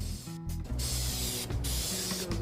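High-heat spray paint hisses from an aerosol can onto a military campstove outdoors in a breeze, in several steady bursts with short pauses between them, close and fairly loud.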